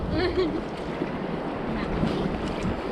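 A river rapids wave hits a white-water raft on the Yellowstone River, a brief rushing splash over constant roaring water and wind buffeting the microphone.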